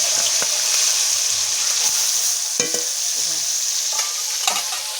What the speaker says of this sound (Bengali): দেখি তো মাছগুলো তাড়াতাড়ি ভেজে নিই